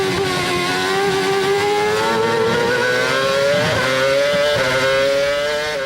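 Formula 1 cars racing, Hondas around a Super Aguri, in the 2007 season in heavy rain: a continuous, high-pitched engine whine that slowly rises in pitch, with further engines passing close by, loud and steady.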